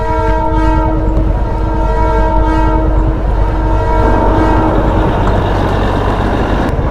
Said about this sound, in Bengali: দেখুন আসছে টয় ট্রেন, দার্জিলিংয়ের টয় ট্রেন।